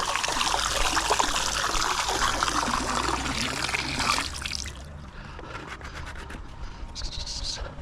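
Water splashes and churns at the return jets of a backyard swimming pool, a close, continuous splashing wash that drops to a quieter trickle for the final few seconds.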